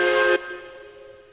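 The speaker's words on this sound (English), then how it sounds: "They did change the whistle mechanics a few updates ago that it affects over distance" A steam locomotive whistle in a railroad video game gives one loud, steady blast of about a third of a second, then cuts off into a long reverberating tail that slowly fades.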